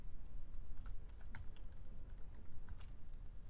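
A computer keyboard clatters under fast, irregular typing as PL/SQL code is entered, with soft close keystrokes and no talking.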